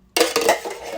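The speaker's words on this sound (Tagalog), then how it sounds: "Haluin ko na lang." A spoon clatters against a bowl while stirring fruit salad, giving a brief close clink and scrape lasting about a second.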